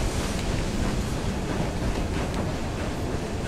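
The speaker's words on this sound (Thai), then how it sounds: "หยุดรถไฟเหรอ" Steady rumbling rail noise of a train in Assassin's Creed Syndicate, a continuous broadband rush with no breaks, loud and close, heard alone.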